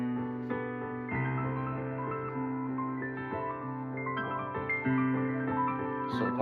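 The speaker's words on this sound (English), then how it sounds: "So I wanted these little piano figures" Gentle, twinkly piano figures ripple back and forth like waves washing over, several overlapping layers with reverb, sustained and steady at a soft, even level with no voices.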